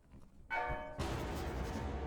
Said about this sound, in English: You can hear the bell going. And it's just like a slow motion ring.